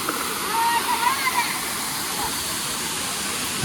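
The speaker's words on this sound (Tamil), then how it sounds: "தேனி மாவட்டத்தில் இருக்கக்கூடிய சின்ன சுருளி அப்படின்னு சொல்லக்கூடிய ஒரு ஃபால்ஸ் தான் இந்த ஃபால்ஸு" Chinna Suruli Falls in Theni district pours with a steady, broad rushing roar, heard close and continuous with faint splashing throughout.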